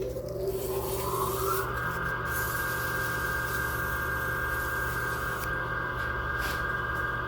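Sanding with 400-grit sandpaper, a steady, continuous abrasive rasp that holds at an even loudness for several seconds, close up with no talking.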